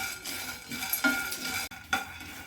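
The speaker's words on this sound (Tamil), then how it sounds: "நான் வந்து ஒரு கப்பு வேர்க்கடலை வந்து வறுத்துக்கிறேங்க" Raw peanuts dry-roasting in a pan for ragi laddu, with a spoon scraping and stirring in short uneven strokes and a couple of sharper clinks against the metal, close and fairly quiet.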